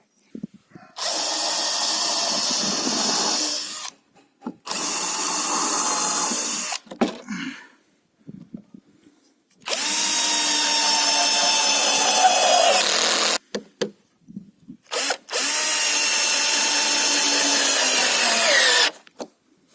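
A power saw whines through wooden panels in four long cuts of several seconds each, loud and close, separated by brief pauses and small clunks.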